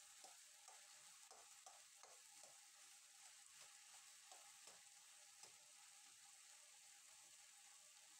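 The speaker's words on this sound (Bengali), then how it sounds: "আমি কিছুক্ষণ কচু শাকটাকে ভেজে নিয়েছি নাড়িয়ে ছাড়িয়ে" Taro greens (shola kochu shak) frying in oil with salt and turmeric, the pan stirred now and then. A faint, steady sizzle runs under scattered soft scraping clicks, with no talking.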